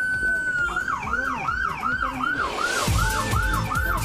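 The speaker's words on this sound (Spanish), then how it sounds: "Viene una ambulancia de emergencia ahí." An emergency ambulance siren wails in a steady, repeating up-and-down cycle at Hospital El Pino, loud and close, over street traffic noise with no talking.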